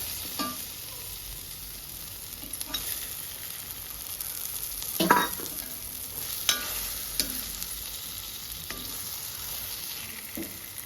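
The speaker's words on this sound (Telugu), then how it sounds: "వేసుకొని బాగా కలిపుకోవాలి" A small-fish curry is stirred in a hot pan, with a steady close sizzle and several sharp spoon scrapes against the metal. No one speaks.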